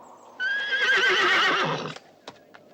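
An old nag, a worn-out farm horse, gives one loud, drawn-out whinny lasting over a second, followed by a few faint hoof clops, close and clear with nothing else behind it.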